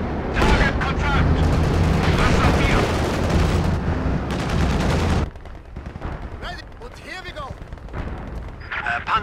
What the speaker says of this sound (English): AT rifle fire!